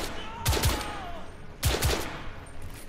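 Gunshots in The Order: 1886 video game ring out in two loud close pairs, each followed by a short ringing tail, with a faint tonal sweep after the first pair.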